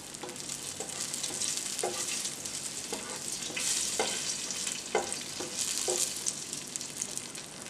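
Gentle sizzling of raisins frying in a pan over a low flame, with a spoon stirring and tapping against the pan every second or so.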